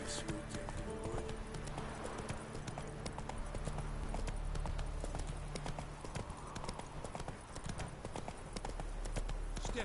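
Hooves of the horse Roach clip-clop steadily across the whole stretch in The Witcher, a brisk even gait that stays up front over busy battle ambience, with a brief whinny and faint voices in the background.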